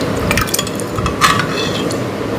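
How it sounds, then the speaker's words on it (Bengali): Fermented idli batter being stirred and mixed by hand, giving a continuous wet, squishy churning with soft sloshes throughout, close and fairly loud with no talking. "এইখানে দেখো ইডলির ব্যাটার রাখা আছে, খুব সুন্দরভাবে ফার্মেন্টেড হয়েছে। এটা আর একবার মিশিয়ে নেব।"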